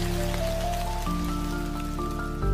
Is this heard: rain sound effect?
yes